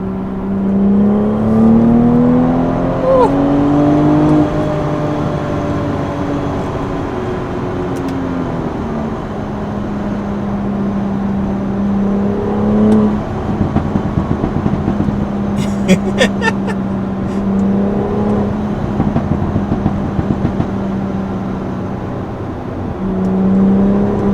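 A BMW 340i M Performance Package exhaust burbling and crackling as the engine revs and settles, a steady droning note with sharp popping crackles clustered midway, heard from inside or near the car alongside intermittent talk.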